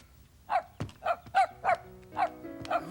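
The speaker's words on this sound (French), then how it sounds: "Il aboie, grand-maman." A small dog barks in a kitchen in a cartoon scene, about seven short, high, evenly spaced yaps, close and clear with no talk over them.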